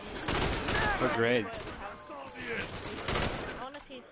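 Rapid bursts of gunfire ring out in Call of Duty: Black Ops co-op Zombies on Xbox 360, loud clustered volleys recurring across the moment while players talk and exclaim over the shooting.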